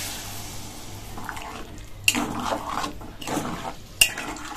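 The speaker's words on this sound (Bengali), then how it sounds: "জল দিয়ে দিচ্ছি" Water poured into a pot of sabudana khichuri, with splashing and stirring against the pot and two sharp metallic knocks of utensil on rim, up close with no speech.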